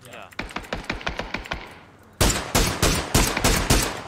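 Automatic rifle fire rings out in the video game PUBG: a quick series of lighter, more distant shots, then a brief pause, then a louder, closer run of rapid, punchy bursts.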